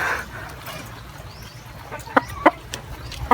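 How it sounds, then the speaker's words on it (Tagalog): Pet chickens clucking at a rural home during heavy rain, a few sharp close clucks punctuating a soft, steady backdrop of rainfall. "yan po yung manok natin."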